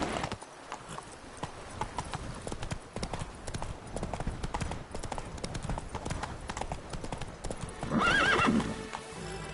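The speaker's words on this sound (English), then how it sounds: "Run, Roach" A horse gallops in The Witcher 3: Blood and Wine, with rapid rhythmic hoofbeats clip-clopping throughout and a short whinny near the end, fairly quiet and without speech.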